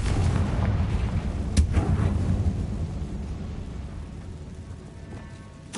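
A Confringo fire spell explodes in a video game, a deep booming blast with rumbling tail that fades slowly over several seconds, heard alone without talk.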